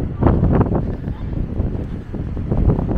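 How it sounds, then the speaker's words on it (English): Strong gusts of wind batter the microphone in rumbling bursts in Inverness, loud and close, with no clear speech. "Oh, it gets windy around here."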